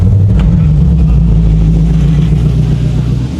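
A 1960 Ford F100 pickup with a Coyote V8 engine, started and running at a deep, loud, steady rumble close by, with no talking over it.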